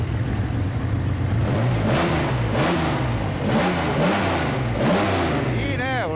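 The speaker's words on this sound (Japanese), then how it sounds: "エンジンかけてください" A customised car engine with a high cam, ported and polished heads and balanced internals rumbles loudly nearby. It revs up and settles again and again while people talk over it.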